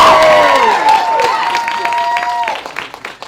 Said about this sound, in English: That applause was so whack.